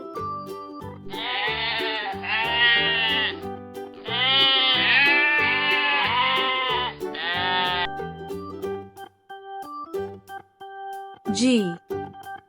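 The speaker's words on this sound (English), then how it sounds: "Goat." A goat bleats in several long, wavering cries, loud and close, with a brief higher squeal near the end; speech is heard around the calls.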